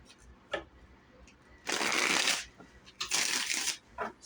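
Tarot cards are riffled and shuffled close by in two main bursts of rapid flapping, with lighter taps and card handling in between, and no talk.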